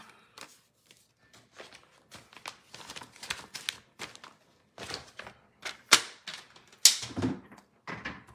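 Paper being cut to half an inch for a handmade card, a run of crisp snips and slides from a paper trimmer or scissors, quiet and close, with brief rustles between strokes and no talking.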